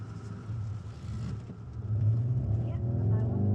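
A Skoda police car with over 200 horsepower accelerating hard in the rain, with a deep engine rumble that swells louder partway through under a steady wash of road and rain noise.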